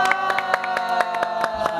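An audience at a live K-pop comeback broadcast for DAY6 claps together on cue, a steady stream of sharp hand claps at moderate level, fairly close and even in rhythm.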